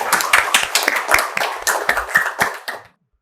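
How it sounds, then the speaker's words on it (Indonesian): Vocational high school students clap together in a classroom, a quick, fairly loud series of about a dozen sharp claps in a steady rhythm, heard alone and stopping abruptly. "Tepuk tangan buat kita semuanya."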